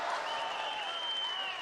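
Esports arena crowd at a VALORANT Champions 2023 match applauding and cheering after an ace, a broad wash of clapping with a high, drawn-out cheer rising above it, steady and fairly loud.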